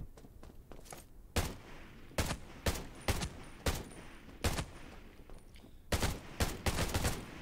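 Gunfire in the survival shooter game Undawn: about a dozen sharp, loud shots and short bursts fired at uneven intervals, with a few tight clusters near the end, over a low background rumble.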